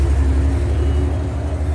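Low engine rumble of a BEST bus in Mumbai street traffic, a steady deep idle drone close by with traffic hum around it.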